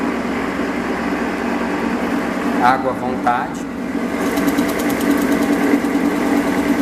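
A metallographic grinding machine sands a metal sample at high rotation speed, giving a steady, loud motor hum and grinding whir throughout, with brief speech partway through.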